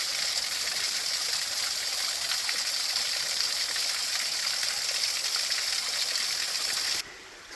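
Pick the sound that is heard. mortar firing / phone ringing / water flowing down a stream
water flowing down a stream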